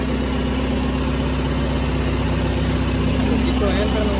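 Farm tractor engine running steadily in low double-second gear, a continuous close low rumble with steady vibration throughout, without pauses.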